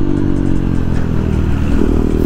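Sport motorcycles, an Apache RR 310 and a KTM Duke 390, race on a Sunday road ride. A loud engine drones continuously at riding speed, mixed with heavy wind rush and no speech.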